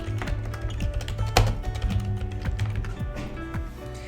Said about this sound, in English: So let's type in electrician Missoula.